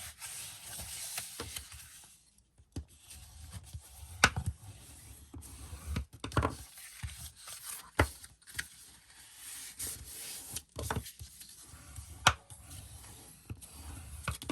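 Paper album pages are folded and burnished in short rubbing strokes with occasional crisp creases and taps, close and fairly quiet, with pauses between passes and no talking.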